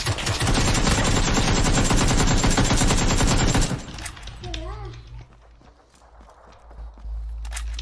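Gunfire in the battle royale game PUBG rattles in a dense rapid burst for several seconds, then breaks off into quieter game ambience with a few distant shots.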